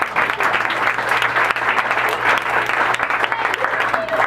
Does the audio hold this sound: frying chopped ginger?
no